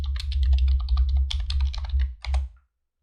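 Rapid, close clicking of a computer keyboard as a search is typed into a Chrome browser, a dense continuous run of keystrokes over a low hum that stops abruptly.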